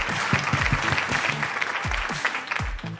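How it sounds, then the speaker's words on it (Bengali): Loud, sustained applause from a studio audience cheering contestants on a beauty makeover reality show, dense clapping running steadily throughout with a few voices mixed in. "সবাই সবার জন্য একটা জোরে হাততালি দিন"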